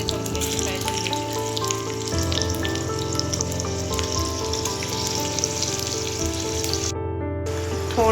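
Slit green chillies fry in hot oil, giving a close, steady crackling sizzle that runs without a break under a faint tonal hum, with a brief dropout near the end.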